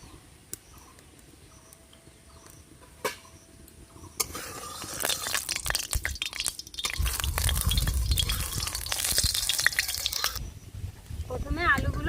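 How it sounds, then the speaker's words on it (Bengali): Mustard oil poured into a hot wok for a vegetarian dish: a few quiet drips and clinks at first, then a sudden close crackling sizzle that swells and holds for several seconds. "কড়াই গরম হয়ে গেছে প্রথমেই দিয়ে দেবো সর্ষের তেল"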